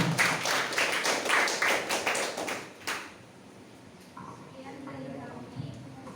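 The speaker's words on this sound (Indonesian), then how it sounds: "Tepuk tangan untuk kelompok 5." Classroom applause for a student group rises in a burst of many hands clapping for about three seconds, then quickly fades into quiet room murmur and talk.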